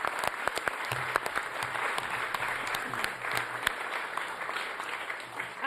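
Members of a town council at a mayoral investiture clap for a newly appointed deputy mayor, a modest, fairly quiet round of applause with a few sharper individual claps standing out, steady throughout.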